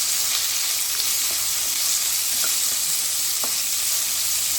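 Onions frying in a pan for a coconut milk gravy make a loud, even, unbroken sizzling hiss close by, with a few faint ticks of a utensil and no one speaking.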